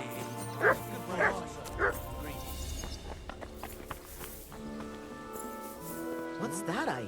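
A dog in Kingdom Come Deliverance 2 gives three sharp barks, then whimpers and yips amid footsteps, while a voice talks over parts of it.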